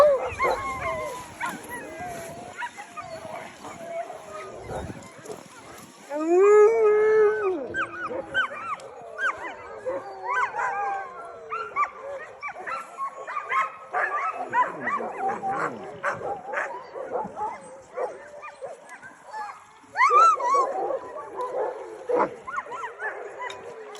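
Iditarod sled dogs bark, yip and whimper nearby in excited, overlapping bursts, with louder volleys partway through and near the end, and a person talks over the commotion.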